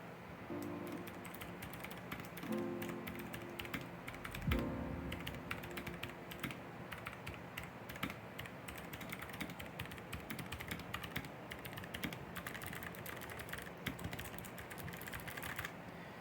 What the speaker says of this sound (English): This Outemu switches, very clicky. Let's do the sound test.